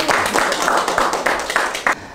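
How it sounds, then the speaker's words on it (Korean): An audience at a Korean lecture gives a brief round of applause, dense overlapping claps at steady volume for about two seconds before cutting off. "자, 이것도 또 박수 한번 드려야죠."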